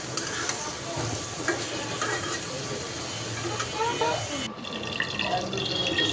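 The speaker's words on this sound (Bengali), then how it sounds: "এখানে আমি গাজর আর মাংসটা ভেজে নিচ্ছি" Chopped carrot and meat fry in a pan, a close steady sizzle with stirring clatter and spatula scrapes, mixed with a voice talking over the cooking.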